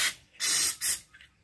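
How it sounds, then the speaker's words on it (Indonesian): Carburetor cleaner sprays from an aerosol can onto parts of a Toyota Innova with a 1TR engine in two sharp hissing bursts, the second shorter, followed by a faint brief spurt, close and loud. "Kita semprot pakai karbur cleaner."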